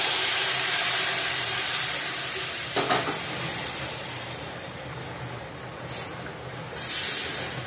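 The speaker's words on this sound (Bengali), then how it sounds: "জল দিয়ে দিলাম, গরম জল।" Hot water poured into a pan while cooking paneer curry, a steady broad hiss and sizzle with a brief splash partway through, close and fairly loud, no talk.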